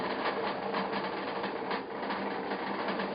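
A motor on a wheel test machine turns a wheel with a steady buzzing whir and faint regular ticking, a brief dip near the middle, heard close and moderately loud without voices.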